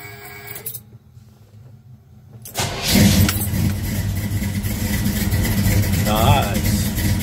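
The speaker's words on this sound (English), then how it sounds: "I'm going to do the startup on the 68 Chevelle." A 1968 Chevelle with dump exhaust cutouts cranks briefly and fires up after a quiet pause, then settles into a loud, steady, rumbling idle close by.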